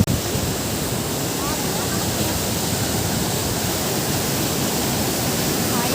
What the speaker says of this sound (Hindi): ये देखो झरना आ गया।